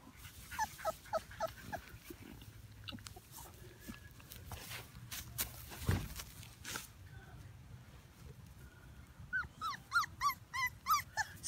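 Five-week-old chocolate Labrador puppies whimper and yip close by in a string of short, high cries, with a final burst of rapid yelps, under faint background noise and occasional talk.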